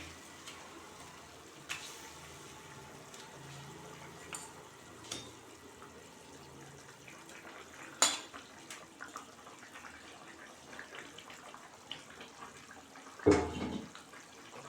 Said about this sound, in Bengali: এখন আমি কই মাছগুলো দিয়ে দেব ঝোলের ভিতরে